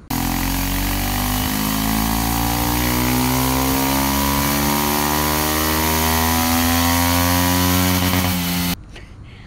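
A Kawasaki Ninja 125 motorcycle engine runs on a dyno. It pulls hard and rises steadily in pitch for nearly nine seconds of loud, buzzing revving, then cuts off sharply near the end.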